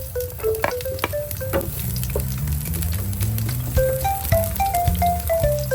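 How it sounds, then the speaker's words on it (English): Chopped onion sizzles in hot cooking oil in a pan, a steady close crackle broken by sharp clicks and scrapes of stirring, with no voices. "Sauté onion."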